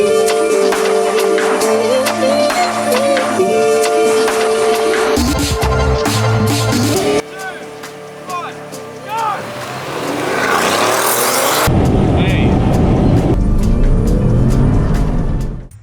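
A drag racing car at Henstridge Airfield roars loudly, with engine drone and bursts of acceleration shifting through the run, mixed with wind and handling noise and some talking among the crowd.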